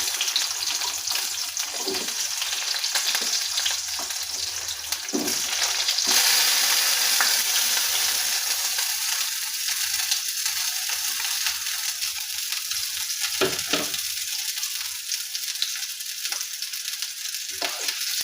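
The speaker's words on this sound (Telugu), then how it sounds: "అలా నూనె వేడి అయినాక ముందుగా మనం తరిగి పెట్టుకున్న ఆనియన్స్ వేసుకోవాలి." Chopped onions hiss loudly in hot oil, a dense steady sizzle with a few scraping stirs near the pan. The sizzle dips slightly partway through, and there is no talking.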